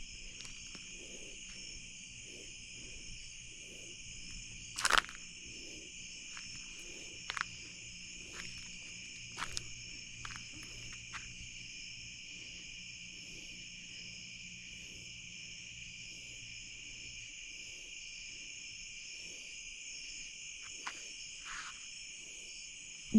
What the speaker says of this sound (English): Bugs are terrible.